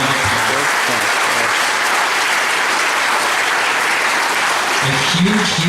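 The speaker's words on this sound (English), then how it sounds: "Give yourselves a round of applause." Audience applause at a gathering of visitors from several countries, a dense, steady wash of many hands clapping throughout, loud and close, with a brief swell near the end.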